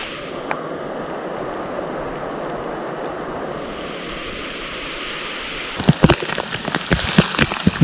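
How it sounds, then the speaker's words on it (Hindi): Heavy rain pours steadily on a steep mountain trek route, a dense continuous hiss throughout, with sharper spattering drops and knocks growing louder near the end. "बारिश पिछले 1 घंटे से हो रही है।"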